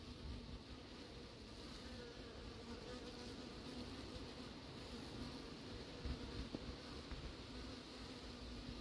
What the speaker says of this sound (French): L'abeille tarde à se poser, doit paniquer un peu quand elle croise les frelons.